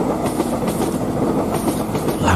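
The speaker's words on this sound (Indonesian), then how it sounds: "kereta itu semakin dekat" An old train comes closer around a bend in a dark nighttime scene, with a loud, constant rolling rumble and rhythmic clickety-clack of wheels on rails throughout.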